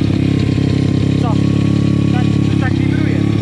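A new Pitgang 140XD pit bike being run in idles loudly and steadily, with a low throbbing drone and a buzzing rattle from the vibrating frame throughout. Voices talk over it.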